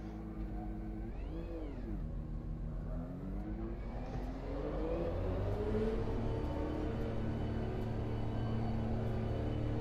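Porsche 911 RSR GTE engine in rFactor 2 racing at Le Mans at night, revving up and down through gear changes, then holding a steady louder drone.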